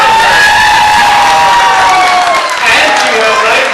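Banquet audience applauding and cheering loudly, a dense steady wash of clapping with whoops, sustained and close, with voices mixed in.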